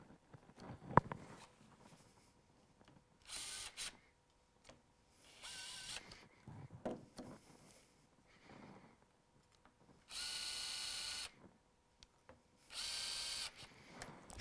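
Power drill boring holes in a door to fit a lever handle set, heard as several short, close whirring bursts separated by quiet gaps, with light handling clicks and knocks between them.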